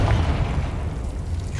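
In the video game Hogwarts Legacy, a Confringo fire spell explodes in a deep, rumbling boom that hits at once and then rolls on as a heavy low roar.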